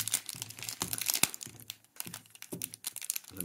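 A silver foil pack of 2022 Topps Series 2 baseball cards is torn open, with close crinkling and crackling foil in uneven bursts and brief tearing sounds, no voices.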